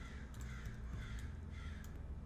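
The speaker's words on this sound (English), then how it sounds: "Those crows, man." Crows cawing in a steady run of harsh repeated calls, clear but somewhat distant over a low rumbling background, no speech.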